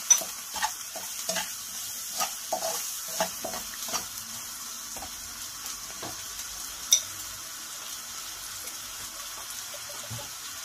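Spice paste being fried in oil and butter for a shahi chicken korma, heard as a quiet, steady sizzle broken by repeated stirring scrapes and clicks, busier in the first few seconds and thinning out later, with no one talking.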